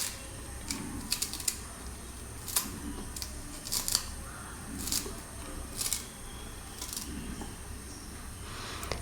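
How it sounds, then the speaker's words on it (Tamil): Coriander leaves are chopped on a cutting board with a knife, quick clusters of sharp taps in irregular bursts against a quiet kitchen background. "அதுக்கு பிறகு கொஞ்சமாக மல்லிக்கீரையை கட் பண்ணி போட்டுக்கிறோம்."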